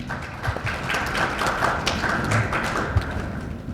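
A church policy-meeting audience claps in welcome for a pastor about to present, a dense, even patter of hands running throughout at moderate volume.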